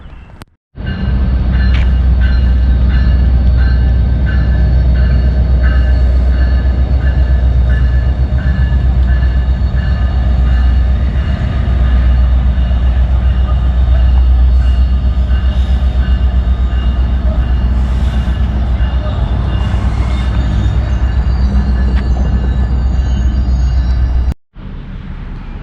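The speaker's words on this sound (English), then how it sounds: "So if a train comes in, I'll film it coming into the station." A train pulls into Suffern station in New York, its loud low rumble and steady wheel noise sustained and close for over twenty seconds, with faint tonal squeals above before it cuts off abruptly.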